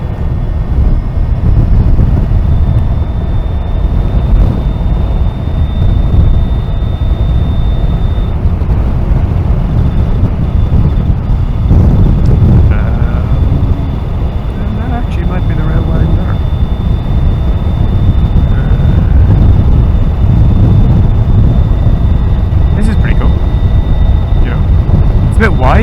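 Heavy wind buffeting roars at a microphone while riding an Energica electric motorcycle on Shap Road, a loud, constant low rumble lasting throughout, with a faint steady whine and a few muffled voice fragments in the background.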